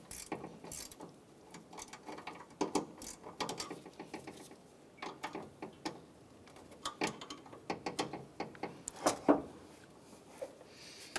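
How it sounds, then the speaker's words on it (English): A 13 mm wrench tightens a bolt while an A/C condenser and receiver drier assembly is fitted on a 2006–2013 Chevrolet Impala, giving faint, irregular ratcheting clicks and metallic taps over quiet background. "Using a 13 millimeter wrench, we'll go ahead and tighten that down."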